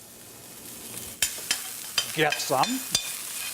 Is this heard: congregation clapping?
no